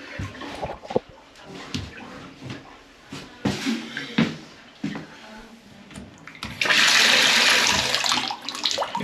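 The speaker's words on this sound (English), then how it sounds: "We'll turn the shower back on and see if it keeps up." Shower water runs into a bathtub with a clogged drain, sloshing and splashing with intermittent thumps, then the spray turns on fully into a loud steady hiss of falling water.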